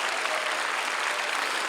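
Dense, steady applause from a church congregation at a peace and unification revival service, a continuous wash of many hands clapping at even loudness throughout, with no voices standing out.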